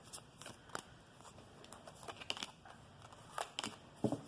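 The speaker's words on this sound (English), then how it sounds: "Okay, one more shuffle." Cards being shuffled close by, a run of quick riffling bursts and soft flicks, with no talking.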